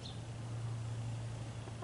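Low, steady clucking from chickens close by, a continuous murmur of fowl sounds with no one talking.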